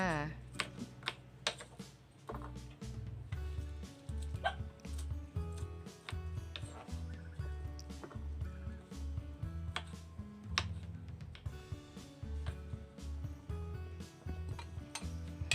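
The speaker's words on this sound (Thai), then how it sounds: "แล้วก็มาหั่นคะน้ากันนะคะ ตามใจชอบเลยนะคะ ชิ้นเล็กชิ้นใหญ่จ้า" A knife chops Chinese kale on a cutting board with steady, rapid close taps, running continuously under background music.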